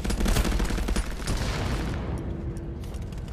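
Gunfire rings out in the VR shooter Contractors on a Quest 2 headset. Dense rapid bursts and booms sound loud and close for about two seconds, then taper into fainter scattered shots.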